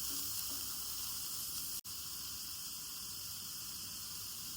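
Bitter gourd with chopped onion and green chilli sizzles steadily in a hot pan, a close, even frying hiss throughout with one brief dropout partway.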